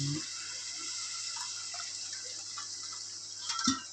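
Water pours into a cooking pot while preparing kanji, a steady faint trickling stream with small splashes and a louder splash near the end, and no talking.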